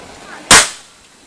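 A firecracker set under a cup goes off in one sharp, loud bang outdoors on a rainy day, the blast decaying quickly into quiet.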